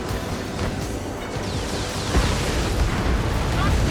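An enemy transport aircraft blows apart in the flight combat game Ace Combat 7. A deep, rumbling blast swells about halfway through over steady jet and battle noise.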